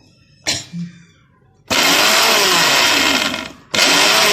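An electric mixer grinder pulses peanuts for peanut butter. A short clatter comes first, then a loud, close whirring burst of about two seconds, a brief pause, and a second burst.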